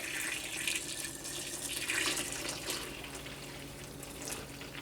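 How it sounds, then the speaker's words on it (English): Very hot water pours steadily from a pitcher into a big pot with a continuous splashing rush, fairly quiet and close, with no voices. "Very hot water, so you want to pour a little slow."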